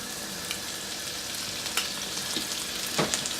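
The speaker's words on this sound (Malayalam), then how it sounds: "പച്ചമണം മാറുന്നിടം വരെ നമുക്ക് നന്നായിട്ട് ഈ എണ്ണയിലിട്ട് നന്നായിട്ടൊന്ന് വഴറ്റിയെടുക്കാം" Garlic and ginger paste sizzles in hot oil, a steady crackling hiss, with occasional scrapes and taps as it is stirred in the pan.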